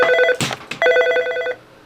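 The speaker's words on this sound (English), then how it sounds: "change the volume anytime the phone is ringing" A Nortel Norstar business telephone rings with two loud, close electronic warbling bursts separated by a short gap, then fades out.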